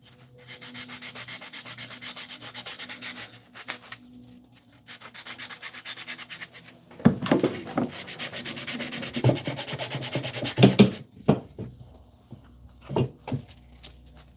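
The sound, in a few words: sanding wood by hand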